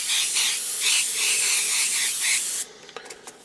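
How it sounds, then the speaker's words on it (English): Paint sprays through a miniature-painting stencil in a steady, close hiss for about two and a half seconds, then stops, leaving a few soft rubbing and handling noises. "So we'll just spray this one a bit here."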